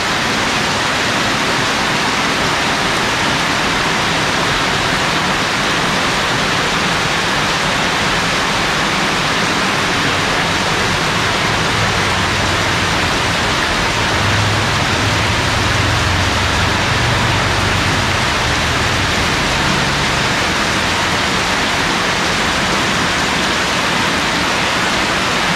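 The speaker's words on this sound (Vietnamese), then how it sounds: "Cơn mưa chiều chủ nhật buồn." Heavy rain pours steadily during a tropical storm on a Sunday afternoon, a dense, unbroken hiss that stays loud and even from start to finish, with no voices.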